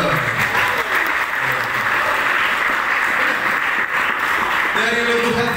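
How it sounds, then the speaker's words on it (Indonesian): A crowd of high school students at a leadership training event claps steadily and loudly for several seconds, and voices rise near the end as the applause continues. "Berikan aplaus dulu."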